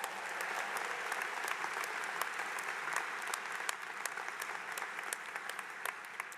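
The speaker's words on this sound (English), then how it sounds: "Let's have a round of applause for them" An audience at a Harpur College of Arts and Sciences commencement ceremony claps steadily, a sustained, fairly distant wash of applause from a large crowd with sharp individual claps standing out throughout.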